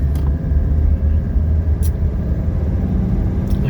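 A 1983 Mercedes 300D diesel pulls forward under acceleration, its low, steady engine rumble dominating from start to finish, with faint road and interior noise mixed in.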